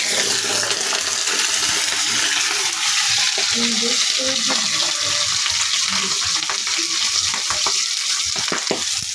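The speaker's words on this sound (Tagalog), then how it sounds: "Okay, prito na natin mga idol." Steady, loud sizzling of milkfish frying in hot oil, with crackles and pops throughout and no talking.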